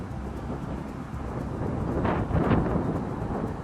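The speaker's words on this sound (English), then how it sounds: "Now we got more wind." Outdoor wind buffets the microphone as a steady low rumble and broad rushing noise, growing slightly stronger partway through. There is no talking.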